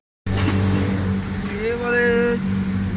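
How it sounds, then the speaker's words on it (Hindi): Suzuki Alto 1000cc car engine idling steadily after starting, a continuous low hum with a brief higher rev partway through, close by in a workshop with a missing and fuel pick-up problem; someone talks over it. "अभी गाड़ी स्टार्टिंग करते हैं"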